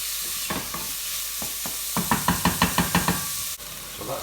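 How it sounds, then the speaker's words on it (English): Onions sweat and soften in a hot pan with a low, steady sizzle, while a quick run of about eight light knocks from a utensil against the pan sounds close by midway through. "The onions have been softening for about 4 minutes or so."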